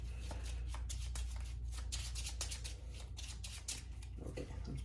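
A deck of trading cards is shuffled by hand in a rapid run of crisp riffling bursts and slaps, close and steady for several seconds over a low background hum.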